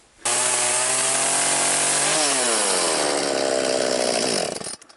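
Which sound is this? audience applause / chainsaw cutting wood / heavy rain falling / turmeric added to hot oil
chainsaw cutting wood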